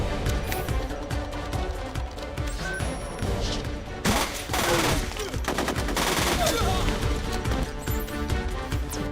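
Rapid gunfire bursts from an action movie shootout set around a security breach in an office building, loud dense cracks mixed with crashes and a tense music bed, continuing through the whole scene.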